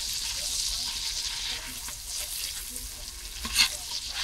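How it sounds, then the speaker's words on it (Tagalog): Buttered seafood with garlic frying in a pan, a loud continuous hiss and sizzle with occasional stirring scrapes close by. "Guys, so paluto ng ating seafood, buttered seafood."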